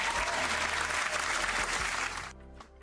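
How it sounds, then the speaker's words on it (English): Applause for Jerome Powell breaks out loudly and steadily, a dense wash of clapping that carries on for about two seconds before cutting off abruptly, leaving faint room noise. "Can we have a round of applause for Jerome Powell?"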